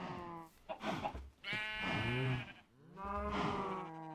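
A Minecraft sheep bleats in the modded game Project Ozone 2, giving three drawn-out, wavering baa calls, fairly faint and isolated with short pauses between them.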